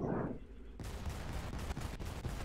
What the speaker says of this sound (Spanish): dispararon allá al fondo